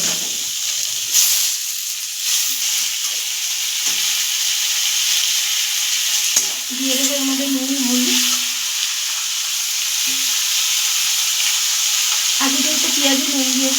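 Chicken mince frying with ginger and garlic in a hot pan gives a constant loud sizzle and hiss, broken by intermittent stirring and scraping sounds throughout.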